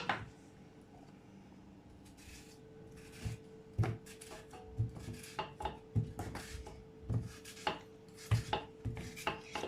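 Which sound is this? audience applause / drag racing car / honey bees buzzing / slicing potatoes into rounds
slicing potatoes into rounds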